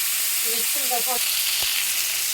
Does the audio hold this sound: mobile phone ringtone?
no